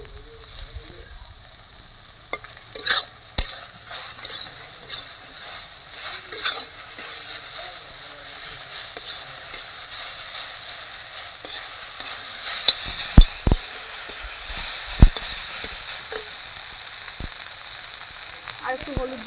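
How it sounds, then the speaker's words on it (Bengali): Spices fry and get stirred in hot oil in a pan alongside fried kochur loti, a soft steady sizzle broken by repeated sharp scrapes and clinks of the spatula, growing busier toward the end. "মশলাটা দিয়ে আর একটু ভেজে নেবো"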